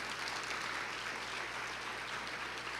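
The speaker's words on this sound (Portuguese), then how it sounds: "Você pode dar um aplauso a ele?" Sustained applause from a church congregation, a steady dense clapping texture filling the whole stretch at moderate distance, with no voices over it.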